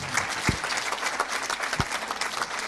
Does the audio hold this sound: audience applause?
yes